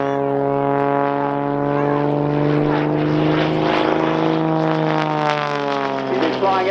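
An Xtreme Air XA41 aerobatic plane with a six-cylinder air-cooled engine and large MT propeller drones loudly and steadily overhead at an airshow, its pitch shifting as it maneuvers, with a commentator talking over it.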